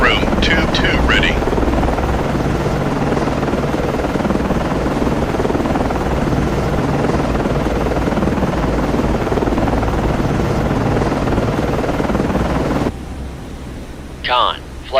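Helicopter landing in the Cold Waters submarine game, a loud steady broadband rotor and engine roar filling nearly the whole clip before cutting off abruptly, with brief radio-style voice calls over it near the start and end.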